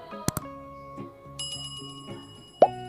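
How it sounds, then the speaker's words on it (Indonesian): Bell notification sound effect: two sharp metallic strikes, then soft tonal chimes and a final bright ding. "bunyikan tanda lonceng."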